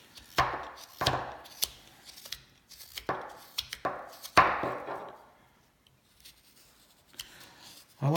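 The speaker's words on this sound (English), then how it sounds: "you can hear that end of that handle clicking on the table" A carving knife's handle end clicks and taps against a tabletop during hand-carving of a Scout cowboy bolo tie, giving a series of sharp, close knocks at an irregular rhythm with quieter scraping between them.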